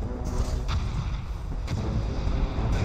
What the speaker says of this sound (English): we've got Dreadnoughts able to fight some shore bombardment